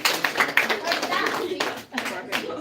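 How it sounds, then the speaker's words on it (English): Applause from a library audience of kids and adults cheering a science demonstration, several seconds of steady crowd clapping, fairly close, with voices mixed in. "Give these two a big round of applause."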